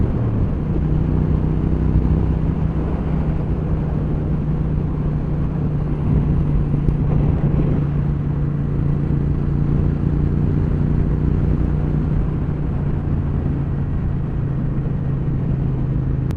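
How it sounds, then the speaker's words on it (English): Triumph T120 motorcycle riding along a coastal road, with a steady low engine rumble and heavy wind noise throughout. Engine pitch shifts slightly, with no talking. "So anyway, yes, 2 years on the T120. It's the second one I've had, but a very nice bike."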